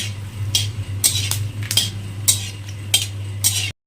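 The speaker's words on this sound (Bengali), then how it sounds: "শুকনো লঙ্কা ভালো করে ভেজে নিতে হবে" Dry red chillies stirred in hot oil in a kadai, with a series of sharp metal spatula scrapes and clinks at a steady rhythm over a constant low hum.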